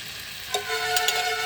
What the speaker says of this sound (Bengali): তো এখন দিয়ে দিচ্ছি টমেটো। তো টমেটোটার মধ্যে আমি একটু শুকনো লঙ্কা গুঁড়ো দিয়েছিলাম, মানে কাশ্মীরি রেড চিলি পাউডার।